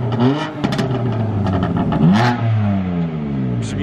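A 450 hp BMW M3 Competition on its stock factory exhaust revs hard and close, its engine note climbing and falling in repeated surges with a raspy, clattering edge.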